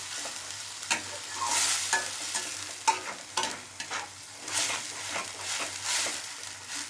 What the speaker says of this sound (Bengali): পরিমাণ মতো নুনটা দেব লঙ্কার গুঁড়ো দেব সব একসাথে মশলাটা কষে নেবো